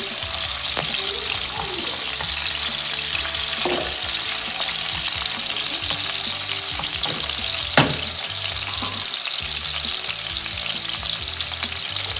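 Pork frying for pinakbet gives a continuous loud sizzle and crackle in the pan, broken by a few sharper pops and stirring scrapes, with no voices.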